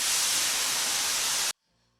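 HVLP spray gun laying down a wet coat of Cerakote, a loud steady hiss that holds for about a second and a half and then cuts off abruptly, leaving near silence.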